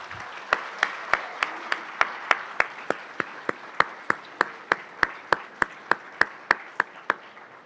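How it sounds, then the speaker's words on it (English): Students receiving energy and mineral engineering department awards are clapped for at a ceremony, heard as crisp, evenly spaced hand claps in a steady rhythm. The claps sound close and distinct rather than like a dense crowd. "Please join me in a round of applause for the talented students in our department."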